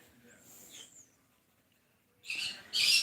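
Pet birds call indoors: a faint whistle early on, a pause, then two louder, sharp squawking calls close by at the end.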